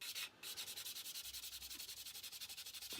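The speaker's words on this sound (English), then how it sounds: "Unfortunately, this is a Flory Models sanding stick" Steady, rhythmic rasping of a sanding stick rubbed back and forth over a plastic model car, close and even, with a brief pause near the start.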